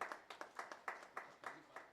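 Sharp hand claps from an audience ring out in a quick, uneven rhythm, about a dozen crisp slaps in two seconds, fairly faint and with no voices over them.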